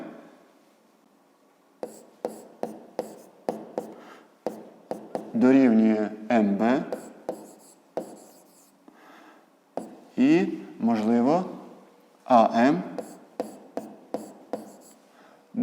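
Pencil or pen writing by hand on paper while working a 5th-grade maths exercise, a run of short scratchy strokes in bursts, heard under a person speaking at intervals.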